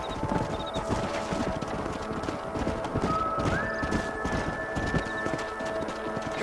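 In a Western video game, hooves clip-clop in a quick, dense gallop of several horses, close and loud, with a horse whinnying and brief voices underneath.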